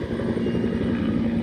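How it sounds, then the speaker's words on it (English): A helicopter drones steadily and fairly loudly overhead early in the morning, with a continuous low rotor throb and no talking. "There's a helicopter there."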